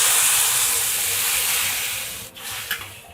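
Sauce poured into a hot pan of seafood noodles sets off a loud, steady sizzle and hiss that slowly eases, with a couple of soft knocks near the end.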